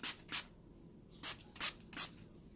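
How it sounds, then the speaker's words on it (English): Five short, soft spritzes of makeup setting spray from a pump bottle onto a face, in two quick pairs and a final burst, close and quiet. "Go in and spray my face with this setting spray"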